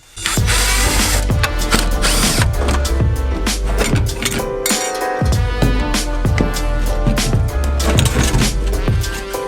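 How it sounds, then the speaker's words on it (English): A power driver backs out Phillips head screws from a Nissan G35 fuel pump assembly, loud and close, with repeated whirring bursts and ratcheting clicks running continuously, no speech. "we got about 6 Phillips head screws that we're gonna go ahead and remove"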